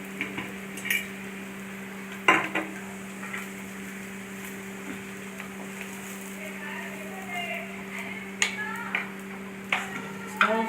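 Coriander and Kashmiri chili powder fry in a pan for a Kerala-style fish curry, a faint steady sizzle under a low hum, broken by scattered clicks and scrapes of a spoon stirring against the pan.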